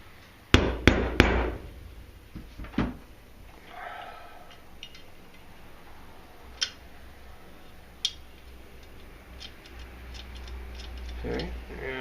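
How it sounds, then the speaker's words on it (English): The hammer pin goes into a Sig Sauer 1911-22 pistol with a few sharp metallic taps and clicks, clustered at first and then scattered and fainter, ending in a short rustle of handling. "We'll install our hammer pin."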